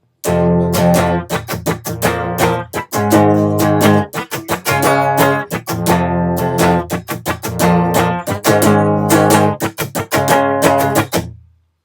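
An acoustic-sounding guitar strums chords in a steady down-up rhythm, repeated bursts with brief gaps, close and clear with no talking.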